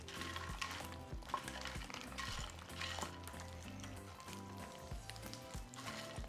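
Pieces of chicharrón stirred into a pot of simmering charro beans, a soft wet stirring and bubbling with faint sizzle and scraping, quiet and steady with no talk.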